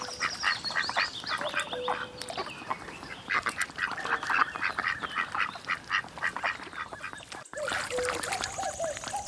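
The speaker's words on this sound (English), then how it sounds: "Duck." Farm duck quacking, dense overlapping quacks from several birds, loud and close, continuing steadily throughout.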